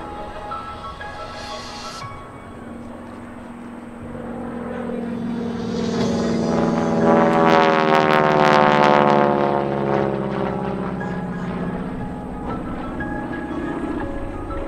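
Geico Skytypers vintage planes with supercharged Pratt & Whitney R1340 Wasp radial engines perform at an air show, a loud propeller drone swelling as the formation passes close, then easing to a steady hum.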